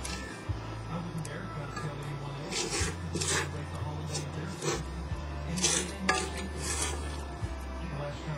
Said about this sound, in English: Just scrape down that bowl.